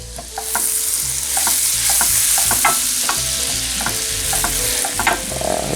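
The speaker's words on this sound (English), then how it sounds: "I just want to get all this roasted garlic and seasonings all mixed together nice" Roasted garlic and seasonings stirred into melted butter in a hot pan, with steady sizzling under repeated scraping utensil strokes, close and fairly loud, no talking.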